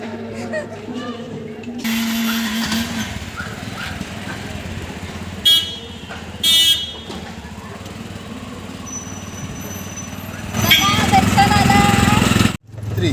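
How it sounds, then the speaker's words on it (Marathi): Auto rickshaw engine idling and running on a street in Akkalkot, a steady motor drone under people talking, with a couple of short horn toots and a louder revving surge near the end. "रिक्षा पण आलेली आहे"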